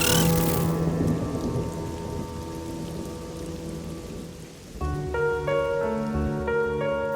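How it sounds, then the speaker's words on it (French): Steady rain pours on a surface while deep, rumbling thunder rolls through, followed by a stretch of sustained tonal music layered over the storm. "Soudain, au dehors, un coup de tonnerre éclate."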